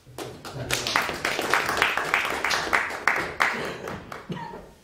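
Audience applause welcomes a performer on stage at a music and poetry evening: dense, steady clapping from a full room, lasting several seconds with uneven peaks and tapering slightly at the end.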